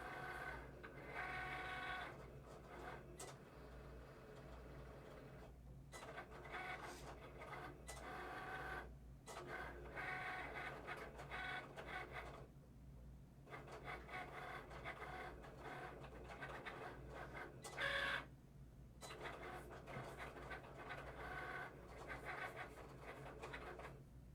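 An electronic cutting machine cuts out a door hanger design, a steady mechanical whir and motor hum running throughout with brief dips and scratchy carriage movements, close by and with no talking.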